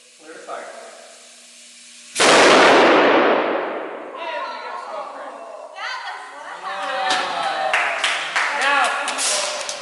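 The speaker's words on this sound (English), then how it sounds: "So now you have all seen an explosion." A sudden loud explosion goes off after a quiet lead-in, its sharp blast trailing into a long roaring wash and rumble, followed by excited voices and chatter from a nearby crowd.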